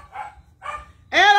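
A dog barks three times, two muffled short barks followed by a louder, sharper whining bark at the end, heard close over a low background rumble.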